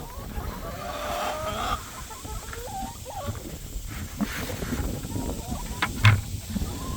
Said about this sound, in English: let me feed the chickens here.